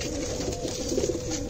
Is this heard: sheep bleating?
no